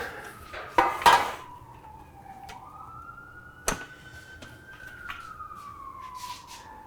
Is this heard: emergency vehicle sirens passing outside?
yes